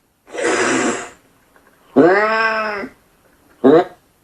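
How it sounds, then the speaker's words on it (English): A smart speaker plays a cat meowing loudly, a drawn-out call followed by a shorter one, preceded by a breathy hiss-like sound, all close up and with no talking. "What does a cat sound like? A cat sounds like this."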